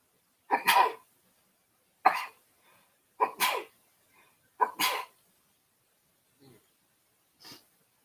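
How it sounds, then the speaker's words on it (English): A person sneezes four times in close succession, each a sharp, loud burst, followed by two quieter sniffs or breaths in an otherwise silent room. "Oh, I gotta sneeze."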